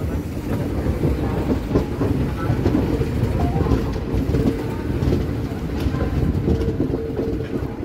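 A passenger train runs on the rails near Surat station, a continuous loud rumble with dense rhythmic clatter from the wheels that holds steady throughout with no distinct talk.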